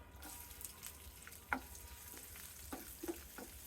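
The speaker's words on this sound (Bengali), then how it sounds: "রসুন কুচি লাল লাল করে ভেজে নেব।" Chopped garlic frying in oil with fennel seeds and dried red chillies for a vegetable tempering: a soft, steady sizzle with a few faint clicks and stirring taps, quiet and close, with no talking.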